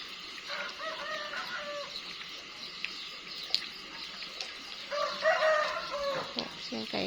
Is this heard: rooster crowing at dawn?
yes